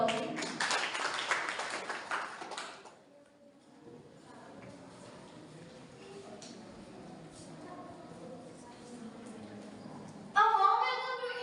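A burst of audience applause at a school English elocution event rises loud for about three seconds, then fades into a quiet hall with faint room noise before a voice begins.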